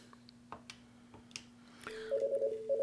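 A Fanvil X7C desk phone announces an incoming call, with a few soft clicks before a steady electronic ring tone starts in repeating pulses, close and clear in a quiet room.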